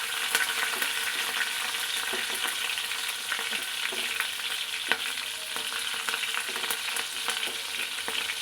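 Cumin seeds and four green chillies sizzling in hot oil, a dense, close crackling fry with scattered sharp pops and stirring, steady throughout with no talking.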